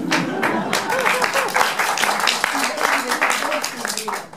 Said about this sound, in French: Vous n'étiez pas obligé d'applaudir.